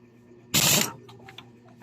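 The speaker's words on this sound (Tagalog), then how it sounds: "So para matanggal natin yan, kailangan natin gagamit ng castle wrench." A castle wrench loosens the nut on a Honda Wave 100 motorcycle clutch, giving one sharp metallic ratcheting burst up close, then faint clicks and small mechanical sounds.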